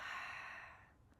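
A single slow, deep exhale during chair yoga, a soft breathy rush that fades over about a second, faint and alone.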